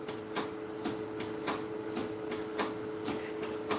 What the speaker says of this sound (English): You hear that clicking? That's the calibrating.